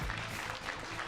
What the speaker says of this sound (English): And a big round of applause for Mr. Jaja Ishibashi.